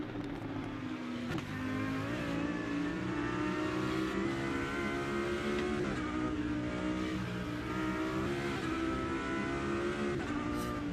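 Lamborghini Super Trofeo race car from the Automobilista 2 racing game at Road Atlanta, its engine droning steadily and loudly for the whole stretch as it leaves the pit lane, pitch rising and falling with gear changes and throttle.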